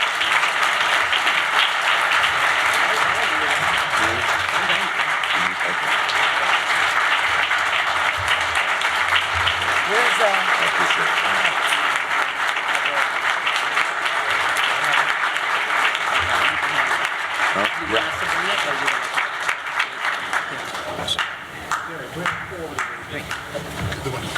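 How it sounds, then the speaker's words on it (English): Sustained audience applause fills a dinner hall at a leadership awards event, dense and steady for most of the stretch before thinning slightly near the end, with faint voices mixed in. "Let's give Leader Clyburn another round of applause"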